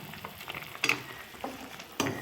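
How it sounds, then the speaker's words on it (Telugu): Mutton liver simmering in water in a pan gives a low bubbling sizzle, broken by a few sharp clinks and scrapes of a utensil stirring, close and fairly loud with no voices. "ఇప్పుడు ఈ నీళ్ళలో ఉడికిపోవాలి లివర్ అనేది."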